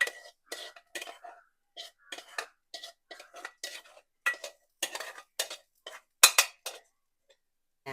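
Cooked clam meat, boiled with garlic, ginger, turmeric, salt and green chilli, is tipped into a pan for clam thoran and stirred, giving a steady run of close metallic spoon scrapes and clinks against the pan, with brief pauses between strokes.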